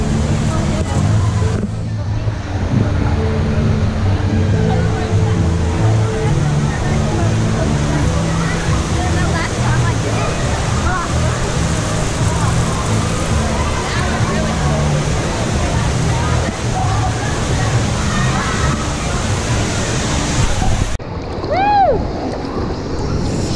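Rushing, churning water roars steadily around riders on TeAwa The Fearless River, an extreme lazy river at Volcano Bay, loud and close with voices shouting over it.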